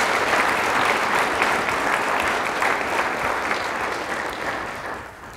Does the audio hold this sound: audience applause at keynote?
yes